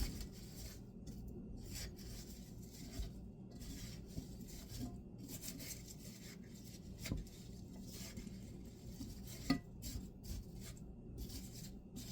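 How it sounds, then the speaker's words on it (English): Apple butter being stirred in a pot, with soft rubbing and scraping strokes of a spoon against the pot that continue quietly and steadily for several seconds, close by and low in level, with one slightly sharper knock partway through. "And then I'm just going to give this a stir."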